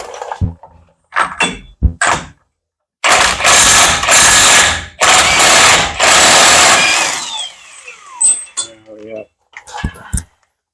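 Bolts are removed from a 2005 Chevrolet Silverado CV axle with a power tool, several short bursts, then a long whirring run of a few seconds, then more brief bursts, with people talking between them.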